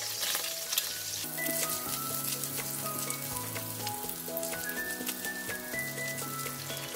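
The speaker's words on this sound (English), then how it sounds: "Now with the oil got all the prawns flavor, so I'm going to put in the garlic." Garlic sizzling in hot wok oil left over from frying prawns, a dense, steady crackle and hiss that runs the whole time behind background music, with no talk.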